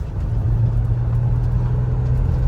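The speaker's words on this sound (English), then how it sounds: "you can hear it's a noisy van" Steady low engine rumble and road noise from a 2008 Toyota Sienna minivan driving along after a major accident, continuous and fairly loud, with faint rattly texture on top.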